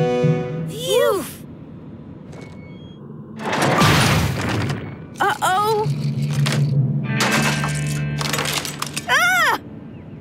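A toy block rocket crashes and breaks apart with a loud clattering burst in the middle, set among cartoon voices with rising and falling exclamations and light background music.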